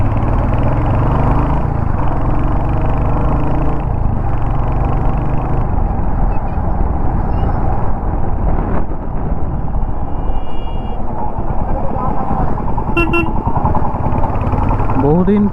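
A Royal Enfield Hunter 350 motorcycle on an open road, its engine droning and rumbling loudly and constantly under heavy wind buffeting, with a rider talking throughout.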